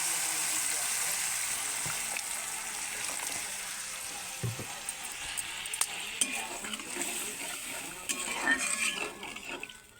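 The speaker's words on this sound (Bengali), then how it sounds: "এবার পরিমাণ মতো একটু জল দিয়ে দেব" Water poured into a pan of cooked spice paste, with a steady hiss and sizzle throughout and bubbling that rises toward the end, close and moderately loud.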